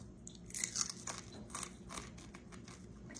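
Crunchy fried fish tail being bitten and chewed close up, a run of crisp crackling bites with no talking.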